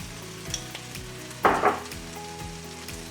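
Tomato going into a hot curry pan of chicken and butternut squash sets off a sudden loud burst of sizzling frying that flares for a moment, then settles back into a steady low sizzle with faint stirring.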